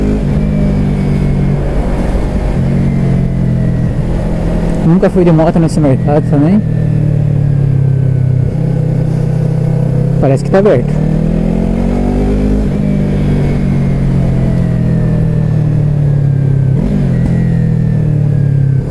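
A Yamaha MT-03 motorcycle idles loudly in a supermarket car park, with a couple of short throttle blips rising sharply, while someone talks over the engine.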